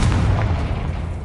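Confringo fire spell blast in the Hogwarts Legacy video game: a short, heavy booming explosion with a dense low rumble that holds steady and fades only slightly over about a second.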